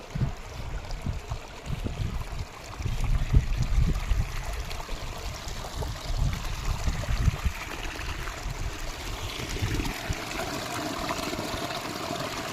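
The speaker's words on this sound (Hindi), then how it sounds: "बहता हुआ पानी हमेशा शुद्ध होता है, ठंडा ठंडा पानी" Steady rushing and gurgling of a cold mountain stream flowing nearby in Mana village, India, continuous and fairly loud, with no voices.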